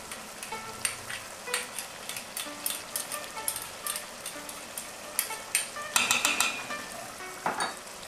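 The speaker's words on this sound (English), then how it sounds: "Mix all those flavors in." Spoon stirring shepherd's pie filling after adding ketchup, mustard, salt and pepper, with soft scraping and a gentle sizzle from the pan, irregular close strokes throughout and no talking.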